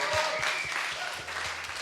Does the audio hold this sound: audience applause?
yes